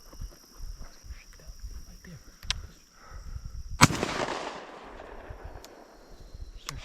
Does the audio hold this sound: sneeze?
no